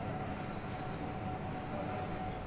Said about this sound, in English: The train passes the trio of railwaymen who take charge of the return trip to Didcot.